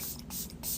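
Makeup setting spray is misted in a few quick short bursts, a soft close hiss pulsing roughly three times in under a second.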